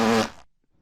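A single cartoon fart sound effect from Family Guy: a short, loud, buzzy burst that trails off quickly into silence.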